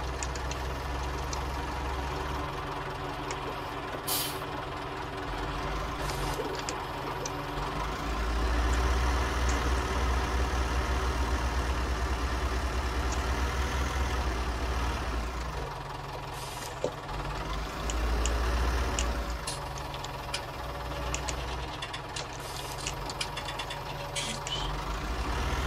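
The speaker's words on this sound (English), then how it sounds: "Isn't a bad tractor this, actually." A tractor engine runs steadily for the whole stretch, a low, loud rumble with a knocking idle that swells louder twice, with no voices.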